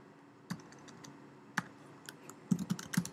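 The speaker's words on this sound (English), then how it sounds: "and then just type whatever you want on the keyboard" Typing on a computer keyboard while editing a header template, with sparse isolated key clicks followed by a quicker burst of close, crisp keystrokes near the end, no talking.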